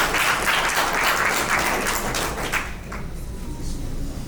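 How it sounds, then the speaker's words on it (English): A crowd at a nursing school alumni anniversary gala applauds itself, a steady, loud wash of clapping that softens slightly toward the end, with some voices mixed in. "A round of applause for ourselves here tonight"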